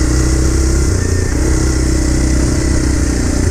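A Kawasaki KLX 230 motorcycle engine drones loud and close while ridden off-road, holding a steady throttle with a constant rumbling tone and no noticeable revving swings.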